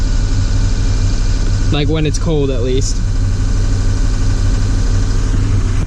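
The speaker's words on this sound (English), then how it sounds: "the high idle is like really high" A 2007 Ford E450 ambulance with a 6.0 diesel runs at a very high idle, a loud, steady, close drone with strong low rumble throughout, and a person speaks briefly over it.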